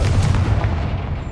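A Confringo blasting spell goes off in Hogwarts Legacy, a loud, close booming blast that rolls out into a heavy rumbling tail, with no voices over it.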